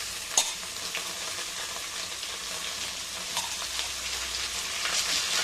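Carrot and potato pieces sizzle steadily in a pan while being stirred, a continuous close frying hiss with occasional scraping, no voices.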